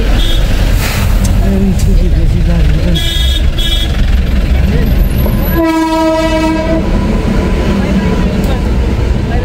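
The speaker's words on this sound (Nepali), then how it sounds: "सायद ट्रेन पनि आउँदैछ कि क्या हो" A train rumbles steadily past, close and loud, with a horn blaring partway through over the constant roar.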